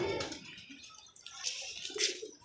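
Pigeons in a loft give soft, brief cooing calls. A few faint coos come through at close range, with some water-like splashing in the background.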